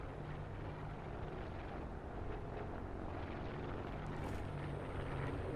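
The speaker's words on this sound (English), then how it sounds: "Wait, nah, it's a plane." Airplane engine droning overhead in the battle-royale mode of the video game Call of Duty Black Ops 4, a steady, rumbling hum that holds at an even level throughout with no speech.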